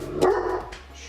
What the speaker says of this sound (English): my dog's barking because there's people outside and bikers, and he hates bikers